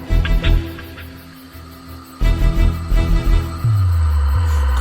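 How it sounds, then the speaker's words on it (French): Gospel music plays steadily with a strong bass line, layered instruments and a sustained low tone entering near the end; no one speaks over it. "écoutons la chanson, les cantiques et les chants"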